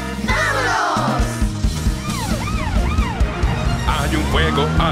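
Wailing sirens of a toy ambulance and police car in a children's song, loud rising and falling sweeps over bouncy music, with singing voices alongside.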